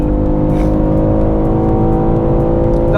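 A BMW M3 CS Touring accelerating hard on a track, a loud, close, sustained engine roar with rising harmonic tones throughout and no talking.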